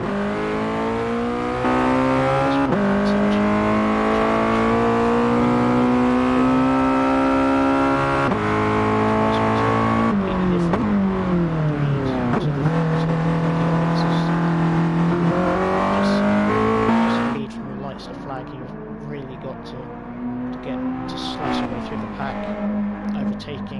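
Mazda Roadster race cars roar loudly and continuously on track at a racing event, engines holding steady before pitch drops and blips mark braking and downshifts, then revs climb again; no talk over the engine noise.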